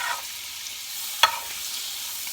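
About two tablespoons of butter melt in a pan, a soft steady sizzle with one brief clatter midway, close and quiet with no talking.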